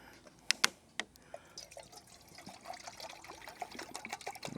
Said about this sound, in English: Go ahead and put some water in it.